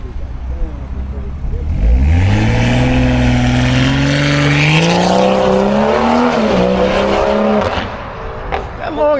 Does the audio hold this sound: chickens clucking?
no